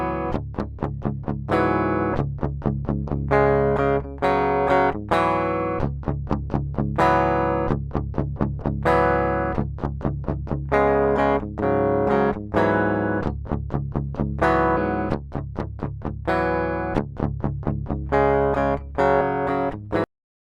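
A dry, unprocessed electric guitar DI signal plays a fast chugging riff through a True Grit pickup with adjusted height, steady palm-muted rhythms and brief ringing chords for about twenty seconds, clean and close with no talking.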